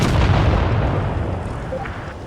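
An E100 heavy tank cannon fires in World of Tanks Blitz: one loud, deep booming blast at the start whose rumble slowly fades away over the next two seconds.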